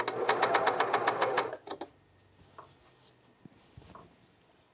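A sewing machine stitches over a bulky seam of a raglan shirt in a fast, rhythmic run of needle strokes for about a second and a half, then a few slower stitches and quiet handling clicks.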